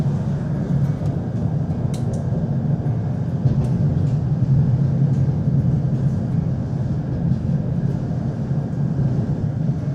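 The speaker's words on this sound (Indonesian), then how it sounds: "Karena memang di stasiun kereta api." Morning ambience outside a railway station in Lviv, Ukraine: a steady low rumble of trains and traffic with dense, even background noise and faint occasional clicks, no voices standing out.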